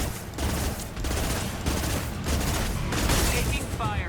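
Rapid gunfire rattles in Mass Effect 2, loud and dense bursts crowding one another continuously, with a voice faintly mixed in beneath the shooting.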